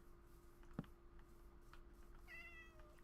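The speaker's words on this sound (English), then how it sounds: "Hey, cat." A cat in the Minecraft video game gives a single short meow near the end, faint over a quiet game background with a low steady hum and a brief click earlier.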